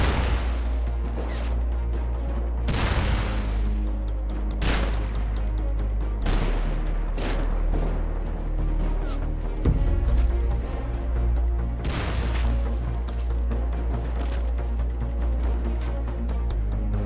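Rocket launcher blasts and bolt-action rifle shots echo through a large base raid in the survival game Rust, with loud sharp reports and explosions landing at irregular intervals over a constant rumbling backdrop.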